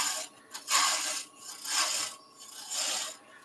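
Gouge taking light cuts on a woodturning lathe while a wooden bunny is shaped, giving a soft, broadband rasping hiss that swells and fades in four or five passes, near and moderately loud.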